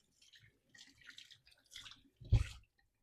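Fresh dill rinsed under water: short, close splashes and trickles in a few separate bursts, ending with a louder gush, with quiet gaps between them.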